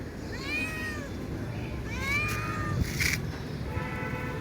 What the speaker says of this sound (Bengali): দেখতে পাচ্ছ বিড়ালটা আমার কোলে ওঠার জন্য কীরকম বায়না করছে, আমার পা ঘেঁষে আসা যাওয়া করছে, বেশ মিষ্টি করে ডাকছে